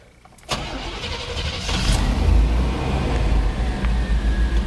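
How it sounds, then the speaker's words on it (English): A 1987 Chevy truck engine is started by the starter, catches and settles into a steady, loud running rumble close to the microphone, with no talk. "So let's go ahead and start up this truck."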